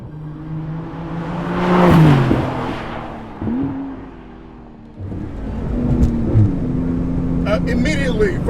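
A Porsche 991 GT2 RS engine on the move, rising and falling through revs with a loud surge near the start and steady droning pulls after, heard from inside the car with people talking over it.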